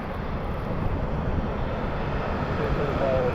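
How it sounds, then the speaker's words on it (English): An American Airlines jet in AstroJet retro livery taxis nearby at an airport, a steady broadband jet-engine roar and rush with a faint whine near the end, fairly loud, mixed with wind and occasional speech. "thank you, American, for taxiing slow"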